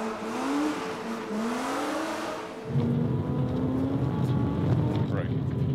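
A rally car engine revs and accelerates hard during a power slide, rising in pitch and then dropping into a louder, rougher roar, heard close from inside the car.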